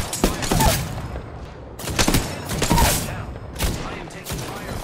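Gunfire in a video game shooter, rapid bursts of loud shots in several volleys with a short pause between them, close and punchy.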